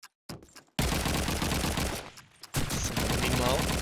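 Gunfire in a Call of Duty 2 competitive match on a bomb-site map: dense bursts of rifle and machine-gun shots, a brief crack at first, then sustained loud volleys with a short lull before another heavy burst.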